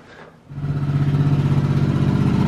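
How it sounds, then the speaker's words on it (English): A Suzuki Boulevard motorcycle engine cranks briefly, then catches and settles into a loud, steady, close-up throbbing idle with an even pulsing rhythm. "Let's start the bike."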